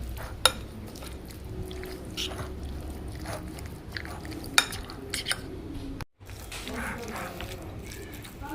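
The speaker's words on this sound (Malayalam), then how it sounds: "ഇതെല്ലാം കൂടെ നന്നായിട്ടൊന്ന് ഇളക്കി കൊടുക്കാം" Raw prawns are stirred with salt and spices in a bowl, giving soft wet squelches, light clinks and scraping against the bowl in an uneven rhythm, fairly close and quiet, with a brief silent gap partway through.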